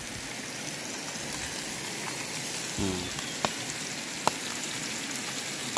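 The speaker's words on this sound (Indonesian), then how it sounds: "Kita lagi goreng ikan. Minyak tak ada." Fish fry in a little oil with a steady, soft crackling sizzle that fills the whole stretch, broken by a couple of brief sharp pops.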